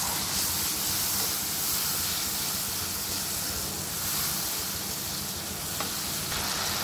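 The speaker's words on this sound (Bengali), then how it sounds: "একটু জল দিয়ে দেবো।" Steady, loud hissing sizzle as a little water hits cumin and coriander spice paste frying in a hot pan for a Bengali patol curry, continuous and close with a faint stirring scrape.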